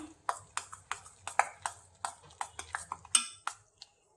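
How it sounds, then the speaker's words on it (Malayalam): Wheat flour dough being mixed with milk in a bowl, heard as a series of sharp, close metallic clinks and scrapes of a spoon against the dish at a fairly regular pace, with a few brighter pings. "നന്നായിട്ടിത് എല്ലാം കൂടി ഒന്ന് മിക്സ് ചെയ്തെടുക്കാം"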